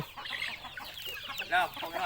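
A flock of farm chickens clucks nearby in quick overlapping bursts, with one louder squawk standing out near the end.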